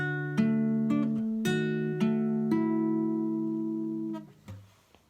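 Fingerpicked guitar plays the pattern for a song, plucked notes ringing together into sustained chords at full speed, clear and close, fading at the end.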